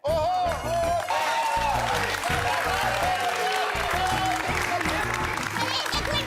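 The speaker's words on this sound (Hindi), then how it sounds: "आपकी तालियों का असली हकदार मैं नहीं बल्कि दया है।" A sitcom audience applauds in a dense crowd wash, with background music and some voices playing over it at a steady, loud level.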